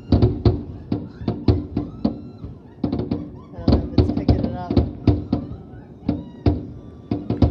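Repeated sharp booming bursts of New Year's fireworks over a lake at Rocky Gap, some in quick succession, echo over ongoing excited chatter from several people nearby.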